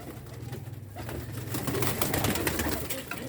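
Pigeon cooing close by, a low repeated throaty rumble lasting throughout, with faint rustling and other birds in the background; no speech.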